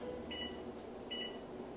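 A kitchen timer gives two short electronic beeps, evenly spaced, faint against a steady background hum, as it is set for 45 minutes of bacon roses baking in the oven.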